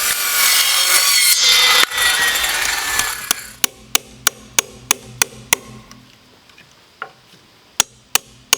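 A handheld Skil circular saw cuts a notch into a wooden post, a loud continuous whine for about three seconds, then a series of sharp, evenly spaced knocking taps as the wood is worked, close and without talk.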